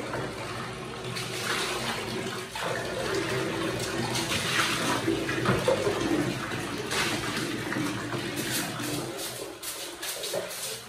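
Water is poured and splashed across a washroom floor during cleaning, a continuous gushing rush like a running tap, fairly close and steady, with only faint voices underneath.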